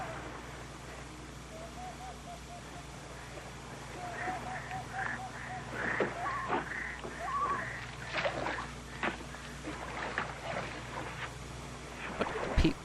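Loon calling over a river channel where boats drift, several wavering rising cries at moderate distance, heard faintly under a narrator speaking and a low hum.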